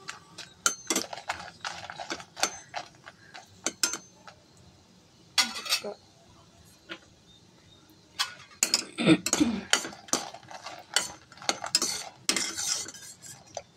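Dry red chillies roast in a pan, stirred with a metal spoon that scrapes and clinks in quick irregular bursts, close and loud with brief pauses between.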